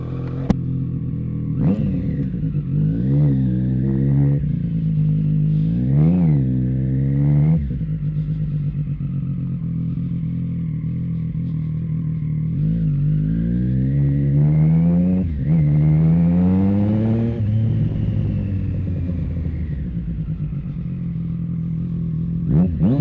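A motorcycle with a remapped ECU on a road test drive, its engine revving up and down repeatedly through gears in rising and falling sweeps, loud and close throughout.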